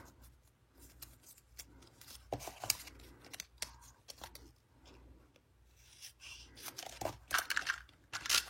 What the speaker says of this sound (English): I'm going to fold this one in half so I can cut it